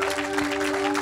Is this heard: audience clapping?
yes